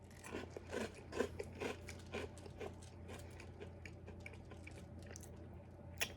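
Dry, crunchy loop-style fruit cereal is chewed close to the mic, with irregular crisp crunches and bites clustered early, then fading to quieter chewing over a low steady hum.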